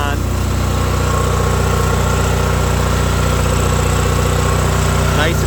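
A John Deere 318 garden tractor engine runs close by at a steady, loud idle with a low rhythmic throb and mechanical rattle, with a brief rising whine near the end.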